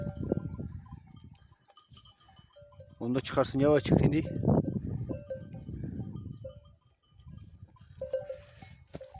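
Sheep on a mountain farm with newborn twin lambs bleat loudly and close in a burst of overlapping cries, while someone talks in between.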